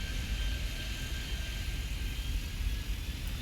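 Airplanes landing in the video game Airport Madness 3D at a London airport, a steady broad engine roar with a faint whine, constant and fairly loud throughout.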